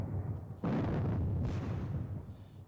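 Booming gunfire from a Napoleonic wargame at the Katzbach, a low rumbling report bursting in around half a second and a second swell just after, rolling on at steady volume with no speech.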